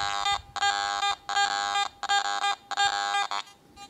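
Garrett AT Gold metal detector sounding over a gold specimen: a loud, harmonic electronic tone pulsing in five even bursts with short gaps, fading to a faint tail at the end, alone without speech.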